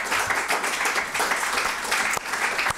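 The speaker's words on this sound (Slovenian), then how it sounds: "zdaj lahko zaploskamo vsem petim." Audience applauds five panelists at a literary discussion event, steady dense clapping from a crowd sustained throughout, fairly close and even in loudness.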